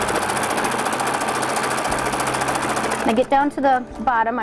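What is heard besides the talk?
sewing machine stitching a towel bag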